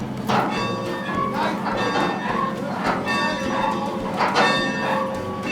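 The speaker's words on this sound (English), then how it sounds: "This is the only manual bell." A hand-rung locomotive bell at a county fair clangs in a steady repeating rhythm, four ringing strikes with lingering resonance over background crowd noise.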